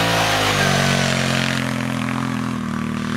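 Arctic Cat Wildcat side-by-side with a V-twin engine pulling away on the sand dunes at Little Sahara, a loud, steady close-up engine drone with strong low harmonics that shifts pitch slightly, with no talking.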